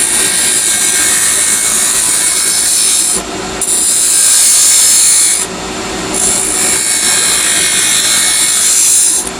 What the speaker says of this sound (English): I'm using the detail spindle gouge right now